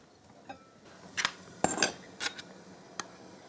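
A few light clinks and scrapes of utensils against a dish as cooked hake is moved into it, scattered and close, with short pauses between the knocks.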